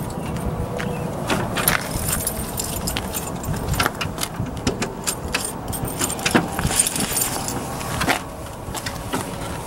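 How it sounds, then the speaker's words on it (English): The hood of a Thor Axis 25.2 rear-slide motor home is released and lifted, giving a string of close metallic clicks, clunks and jangles over a steady low background. "Really quick, just wanna pop the hood on this guy here."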